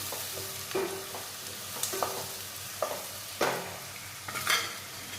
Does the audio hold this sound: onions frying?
yes